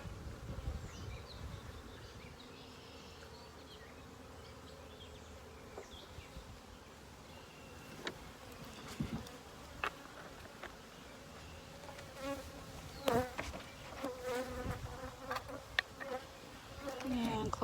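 Bees buzz around a homemade hive feeder made from a can with holes punched in its top, holding 1-to-1 sugar water. A steady, faint insect hum runs throughout, with some louder handling knocks near the end.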